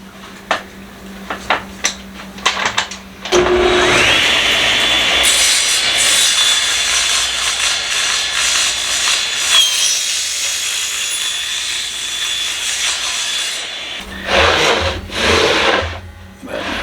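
A table saw with a small scrap-built crosscut sled cuts through wood: a few knocks, then a loud continuous whine and cutting roar for about ten seconds before it drops back to clattering handling noises.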